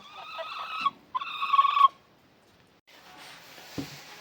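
Domestic hens in a small flock cluck and squawk in two loud, close bursts of nasal calls, followed by quiet and a faint rustle with a brief thump.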